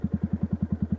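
A Yamaha YZF 125 R sport motorcycle engine idles close by, with an even, rapid thumping pulse and no speech.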